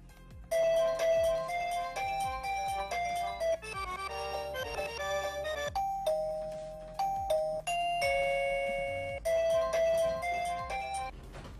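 A series of electronic doorbell chime melodies from an XTU-J7 Wi-Fi video doorbell plays one after another, bright tonal jingles with short pauses between tunes, no talking.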